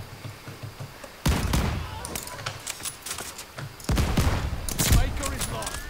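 Sniper rifle shots ring out in a first-person shooter game played with mouse and keyboard, a few sharp cracks spaced seconds apart over quieter background game noise.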